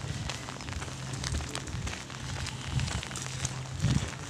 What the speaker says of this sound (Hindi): बारिश हो रही है अभी भी।